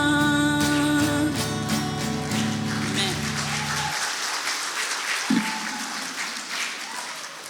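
Congregation applauding during a Sunday Hindi church service, steady broadband clapping that starts under sustained music and continues alone after the music stops.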